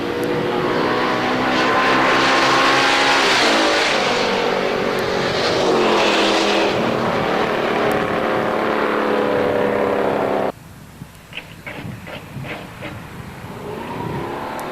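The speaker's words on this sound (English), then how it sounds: "a little bit of tire spin coming out of the hole" A drag race car launches at a strip in Norwalk with a little tire spin, its engine roaring loud and rising in pitch before cutting off abruptly, leaving softer distant crackles and pops.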